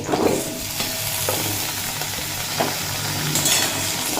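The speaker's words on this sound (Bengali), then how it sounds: "আলু যখন এইরকম হালকা ভাজা হয়ে যাবে তখন দিয়ে দেব পেঁপে" Potatoes sizzle loudly in a frying pan, a close constant crackle with several scraping stirs and light utensil knocks spread across a few seconds, with no one talking.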